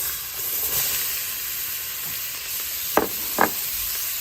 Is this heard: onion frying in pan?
yes